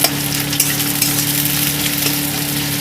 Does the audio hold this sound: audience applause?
no